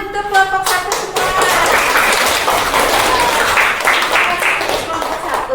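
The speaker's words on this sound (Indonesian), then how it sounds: "Kita beri tepuk tangan untuk kelompok satu semua." Classroom students clapping for a group after its presentation, starting with a few sharp claps and then building into loose, uneven applause, with voices mixed in.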